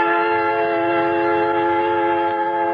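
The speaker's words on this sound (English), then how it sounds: "I board a creaking train and wait until finally it lumbers out through the yards" An old train creaks and lumbers out through the rail yards, a steady close drone with a sustained whistle-like tonal hum throughout, no voices.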